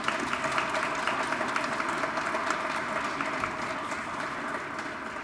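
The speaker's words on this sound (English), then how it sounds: "So let's give them a huge round of applause." A large audience at a fellowship awards event applauds steadily, a dense, even wash of clapping that holds at a constant level throughout.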